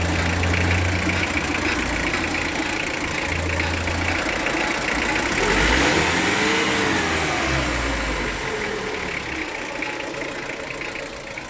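A Nissan Vanetta diesel engine runs steadily just after its glow plugs cycle off, a close, continuous rumbling idle with a slight swell in revs partway through and no talking.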